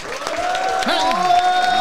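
An audience at a live podcast recording applauds a DJ, with a short burst of clapping and crowd noise mixed with a sustained voice or tonal sound over it.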